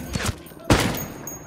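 A single sharp sniper rifle shot in Ghost Recon Wildlands cracks loudly and decays into a brief rumbling tail, preceded by quieter clicks and faint sounds.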